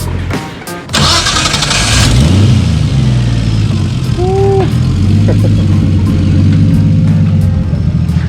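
An RB-engined Datsun 240Z cranks over loudly, catches and revs up, then settles into a steady, rumbling idle close to the microphone.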